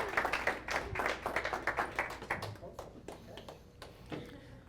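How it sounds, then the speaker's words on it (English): A small audience claps at the end of an evening real estate community event, a ragged burst of applause that thins out into scattered claps with voices mixed in. "Give yourselves a round of applause"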